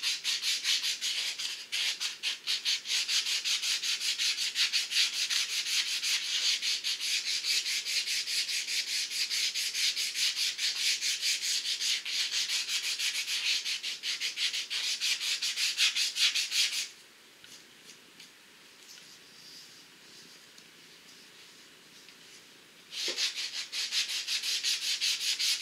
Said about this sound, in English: it makes an excellent sanding block that will give a little bit